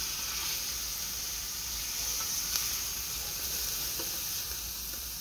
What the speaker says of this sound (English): I'm going to cook this fish down.